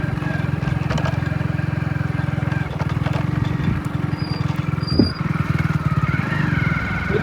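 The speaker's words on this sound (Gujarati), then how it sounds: "આ મગાનું એક્ટિવા છે, મગાન પપ્પાનું" A Honda Activa scooter rides along a road, its small engine giving a steady, close, continuous buzzing hum with light road noise throughout.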